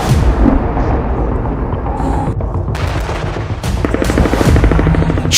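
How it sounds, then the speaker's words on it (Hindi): Air strike explosions in Khan Younis, Gaza: loud, dense booms and crackling blasts overlapping one another, with sharp bursts and heavy rumbling throughout. "खान यूनिस पर खूनी हवाई हमले"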